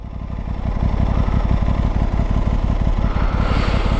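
A 2024 Aprilia RS660 motorcycle pulls away from a standstill, its engine a loud, rapid low pulsing throb that holds steady and close, with a faint high whine rising near the end.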